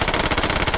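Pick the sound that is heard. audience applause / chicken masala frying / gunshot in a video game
gunshot in a video game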